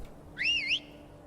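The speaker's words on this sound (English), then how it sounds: "I'm pretty sure I can whistle for the horse." Single short two-tone whistle calling a horse in Skyrim, a bright rising and falling note lasting under half a second, clear and alone over faint background hum.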